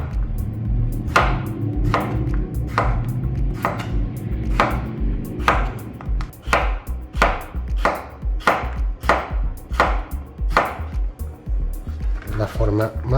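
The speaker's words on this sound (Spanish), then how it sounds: "Es la forma más fácil de cortar pepino, quitándole las semillas y todo." A knife chops cucumber on a cutting board, striking in a steady series of sharp, close knocks over low background sound and faint speech.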